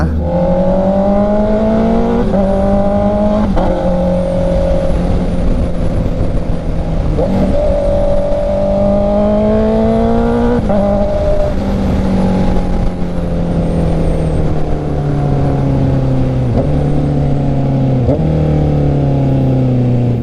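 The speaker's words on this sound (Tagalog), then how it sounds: "Ganda talaga ng exhaust niya. Ang natunog parang D250." A Mazda MX-5's aftermarket exhaust rises and falls through repeated loud revs as it accelerates and shifts gears, passing close by, with no talk over the engine.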